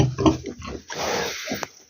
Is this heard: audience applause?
no